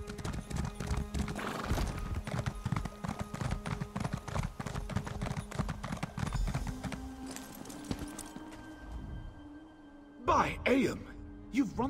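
A horse in the video game Elder Scrolls Online gallops with steady, rapid clip-clop hoofbeats that slow and fade, followed by a couple of sharp whinnies near the end.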